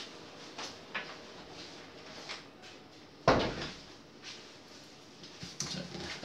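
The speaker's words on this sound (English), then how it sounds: "I want to close my door." Indoor door being closed, a single solid thump partway through, heard amid faint room noise and soft shuffling before and after.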